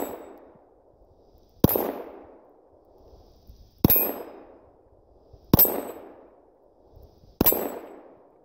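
Steel plates on a homemade dueling tree ring out with four sharp metallic clangs as rifle rounds strike them, each hit followed by a fading ring, spaced about two seconds apart with quiet between.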